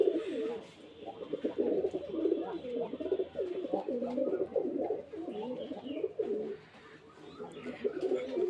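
Rajshahi Giribaj pigeons cooing in repeated soft throaty phrases, fairly close and steady with brief pauses.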